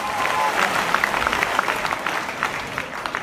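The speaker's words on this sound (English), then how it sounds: "A big hand clap for Jandy San Juan." Audience applause at an AIM Global training event in Uganda, a dense steady round of hand clapping from a crowd that holds at an even level for several seconds without a break.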